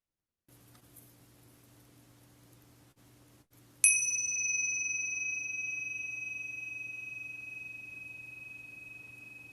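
A meditation bell struck once, a bright clear ring that sounds suddenly after a quiet hum and lingers, slowly fading over several seconds.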